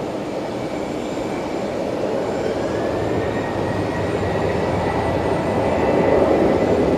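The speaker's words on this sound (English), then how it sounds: "Here we go, Qantas 543 off to Perth tonight." Qantas flight 543 jet taking off for Perth from Brisbane airport at night, a sustained engine roar building louder toward the end, with a faint rising whine and no voices.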